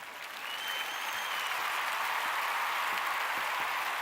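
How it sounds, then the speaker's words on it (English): A round of applause from a small group, swelling within the first half second and then holding as steady, close clapping until the end. "We're going to do a little round of applause."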